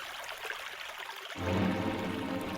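Cartoon river water flowing, a soft hiss that swells abruptly into a fuller, louder rushing stream midway and carries on steadily.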